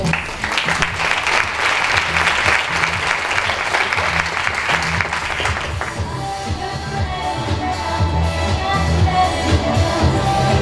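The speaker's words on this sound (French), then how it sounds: "Merci de les applaudir." An audience at a Paris business forum applauds panel guests as they are introduced. Loud, dense clapping dominates the first half, then tapers off into softer room noise and shuffling.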